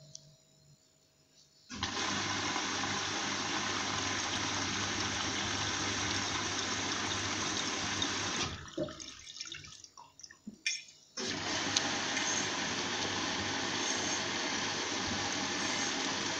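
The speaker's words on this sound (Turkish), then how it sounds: "Şimdi Washer Family Electrolux'un yıkamasını başlattım" An Electrolux washing machine starts a wash cycle and fills with water, a loud steady rushing gush that pauses briefly with clicks and drips, then resumes.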